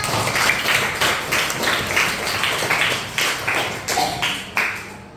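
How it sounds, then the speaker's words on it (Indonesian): Classroom of young primary pupils clapping for a classmate, a dense, fairly close patter of many small hands in uneven bursts that swell and fade over several seconds. "tepuk tangan untuk Amina Jalpa"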